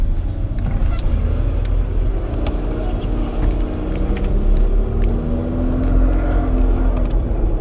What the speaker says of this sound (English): let the gearbox and the engine just heat up a little bit